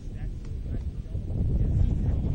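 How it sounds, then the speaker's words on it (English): Wind gusts buffet the microphone at an outdoor college soccer match, a low steady rumble that swells louder partway through. "you'll hear that wind start to gust every once in a while."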